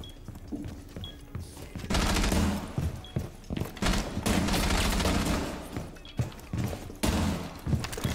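Rapid bursts of automatic gunfire in a tactical shooter match of Rainbow Six Siege, loud and close, with dense volleys clustered across the stretch and short gaps between them.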